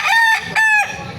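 A rooster crows twice in quick succession at a Baliuag, Bulacan chicken market, each call loud and close with a rising harmonic-rich tone, with faint market murmur underneath.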